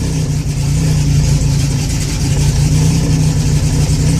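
A freshly started race car engine running on E85, with no idle speed control, idles loudly and close by, a steady low throbbing drone with a lumpy, even pulse and no voices.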